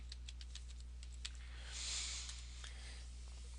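Quiet, light clicks of typing on a computer keyboard come in a quick run, then trail off into a few scattered taps over a low steady hum.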